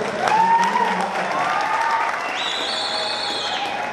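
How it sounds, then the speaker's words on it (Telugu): Audience applause at a political party meeting in a garden venue, a moderate spread of clapping from the crowd, with music playing over it. "అంత మంచి కళాహృదయం ఉన్న కవితకి ఒకసారి మీరు అంతకంటే చప్పట్లు కొడితే"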